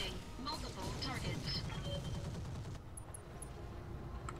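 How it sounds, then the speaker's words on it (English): Heavy machine guns firing in the mech combat game Roguetech, rapid bursts of crackling gunfire for the first few seconds, then the sound thins into a few faint sharp pings. "I think we'll send the heavy machine guns"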